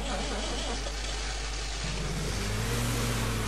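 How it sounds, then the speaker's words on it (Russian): A ZIL-585L truck engine in the Spin Tires video game runs steadily with a loud, constant mid-range drone, its pitch shifting slightly partway through, with no talk over it. "послушаем моторчик."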